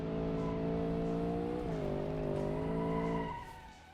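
A Koenigsegg V8-powered car in a racing video game holds a steady, loud engine drone with layered harmonics, dipping briefly as it shifts, then fading off near the end.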